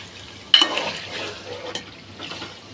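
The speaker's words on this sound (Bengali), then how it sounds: "এটা ভালো করে কষিয়ে নিলাম।" Ground spices and beef for haleem sautéed in a pan, a soft sizzle under a few sharp scrapes and stirring strokes, close by, with a quieter stretch between them.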